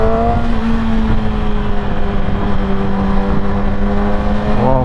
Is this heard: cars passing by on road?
yes